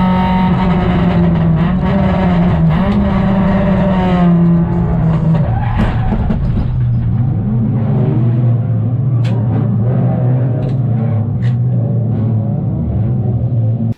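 Race car onboard during an XL Enduro endurance race at the Bend, where cars spin ahead and a crash follows: a loud, steady engine roar with shifting pitch throughout, plus brief tire and skid noises near the middle.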